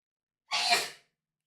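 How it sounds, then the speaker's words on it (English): A single sharp human sneeze, close and fairly loud, bursts out and fades in under half a second against otherwise silent surroundings. "That was a good sneeze"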